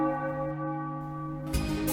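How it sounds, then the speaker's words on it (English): A giant bell tolls in a throne room where the Koopa King rings it from a raised platform, its long sustained harmonic tones humming steadily before a fresh strike lands near the end. "the sound of a giant bell is heard"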